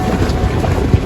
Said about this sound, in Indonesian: kenceng anginnya bang.